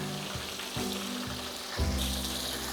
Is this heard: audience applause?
no